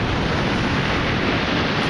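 Waves rolling and breaking onto a stony beach at the eastern beach of Oludeniz, Turkey, a continuous loud broadband wash of surf with wind roughness and no distinct individual crashes.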